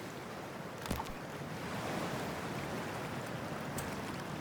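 A splash and plunge into freezing water in Cyberpunk 2077, a brief burst near one second giving way to a steady wash of surf-like water and wind noise with no talking.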